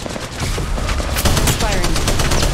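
Rapid gunfire in Apex Legends Mobile, a dense volley of close, loud shots crackling in quick succession, with game voices and effects mixed underneath.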